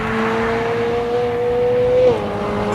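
A Ferrari 458 Speciale's naturally aspirated 4.5 litre V8 holds a steady, high-pitched drone for about two seconds before the pitch drops sharply as it eases off.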